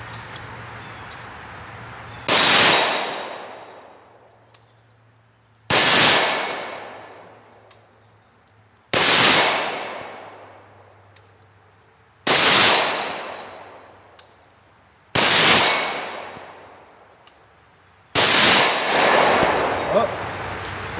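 Six sharp 300 Blackout rifle shots ring out at an outdoor range, spaced about three seconds apart, each a loud crack followed by a decaying echo, with a faint low hum between them.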